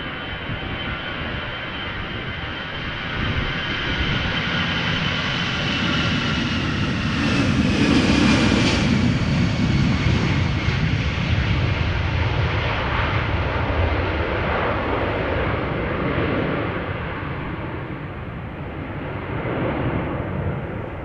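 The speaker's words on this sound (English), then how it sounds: "What is certain is that this is Aer Lingus flight 603 going to Dublin" An Aer Lingus Airbus A320, 19 years old, departs Amsterdam Schiphol for Dublin, a loud jet roar that swells to a peak midway as the aircraft passes, then slowly fades with a lingering rumble.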